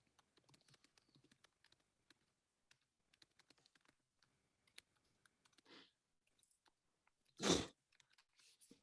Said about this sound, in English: can hear someone typing.